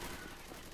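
Gunfire rattles outside a hut in the zombie shooter Left 4 Dead 2, a brief dense burst of rapid shots heard at a distance, muffled and steady.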